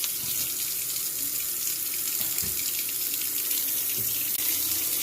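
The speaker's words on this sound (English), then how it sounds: "run a strong stream of hot water and let it run for about a minute" A strong stream of hot water runs from a kitchen faucet into the sink during garbage disposal cleaning, a steady close hiss that continues unbroken.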